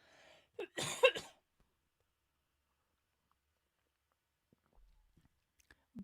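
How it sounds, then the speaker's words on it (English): A single short cough burst, close by, followed by near silence with a few faint small clicks. "Hang on, I'm going to cough."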